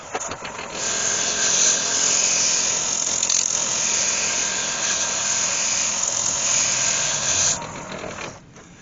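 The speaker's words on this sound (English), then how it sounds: "use the back of the sanding cloth on there, and that will just buff that up" Steady whirring of a spinning lathe with the back of a sanding cloth pressed against a turning walnut vase, a continuous buffing hiss that stops abruptly near the end.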